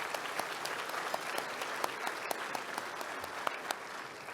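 An audience at the State of the Region 2023 event applauds Niagara farmers and winemakers: dense, sustained clapping fills the room, with a few sharper individual claps standing out from the steady crowd.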